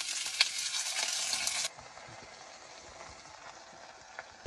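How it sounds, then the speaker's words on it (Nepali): Stone frog frying in ghee in an outdoor pan gives a loud, dense sizzle for almost two seconds, then drops to a quieter steady crackle with a few small pops. "यसलाई चाहिँ फ्राई गर्नुपर्छ घिउमा"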